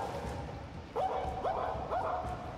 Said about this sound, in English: Is there a dog down there?